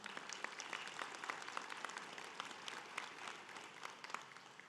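Steady audience applause fills a hall during a sports hall of fame induction ceremony, many hands clapping in a dense, continuous wash at moderate volume without pause.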